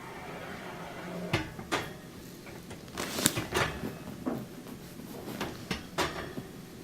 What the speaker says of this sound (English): Then I'll put the racks back in, slide them in.